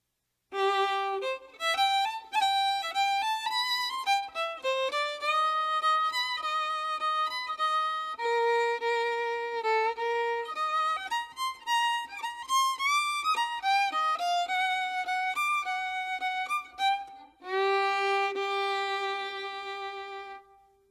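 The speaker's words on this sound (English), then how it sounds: "Peter's played by the fiddle, which is just another name for the violin." A lone violin plays a bright, flowing melody with some sliding notes, clear and close, with no other instruments.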